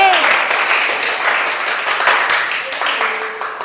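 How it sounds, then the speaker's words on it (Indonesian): Classroom applause after student presentations, many hands clapping steadily at close range for several seconds, with a teacher's voice and chatter mixed in. "Kita beri tepuk tangan untuk kita semua."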